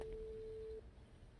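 A phone line tone in a roleplay video game holds one steady, faint note for under a second, then cuts off, leaving quiet background.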